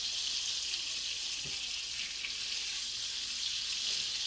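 Pheasant back mushrooms fry in hot olive oil and butter in a pan, giving a steady bright sizzle that holds evenly throughout, quiet and close, with no talking.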